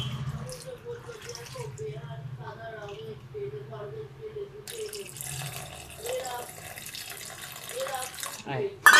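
Water is poured over jackfruit seeds in a pot before boiling, a faint splashing that swells into a steady rushing stream in the second half, with someone talking over it.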